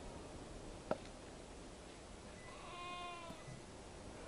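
A single sheep in the video game Beyond: Two Souls gives a faint, wavering bleat at a distance after a sharp click, against a soft steady background hiss.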